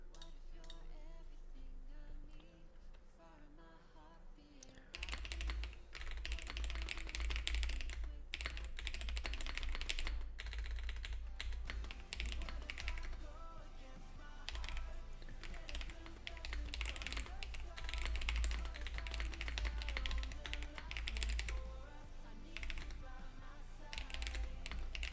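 Rapid typing clatters on a computer keyboard, steady clicking keystrokes that start after a short quiet lead-in and continue loud and close for the rest of the stretch.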